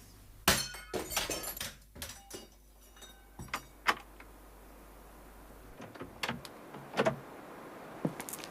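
A plaster bust of Napoleon is smashed, giving sharp cracking impacts and scattered clattering fragments, loud and close at first, then lighter irregular knocks and debris trickling off.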